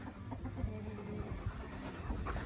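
Chickens cluck steadily inside a dim chicken coop, a close, continuous murmur of several birds with occasional louder clucks.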